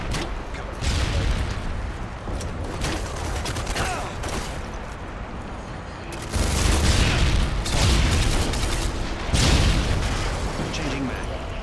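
Flash grenade blasts in Call of Duty MW2 multiplayer: loud, broad bangs, with sharper bursts near the middle and end, over constant game noise and excited talk.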